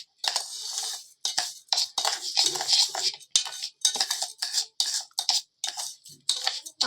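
Sugar mixture stirred steadily in a pan for a wedding sugar kalash and coconut, a spoon scraping and clinking against the metal in a continuous, close, repeated rhythm with short pauses.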